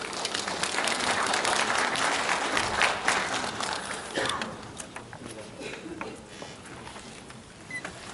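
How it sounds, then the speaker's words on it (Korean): An audience at an education conference breaks into dense applause to welcome a lecturer, loud and steady at first, then thinning to scattered claps near the end. "큰 환영의 박수로 맞아주십시오."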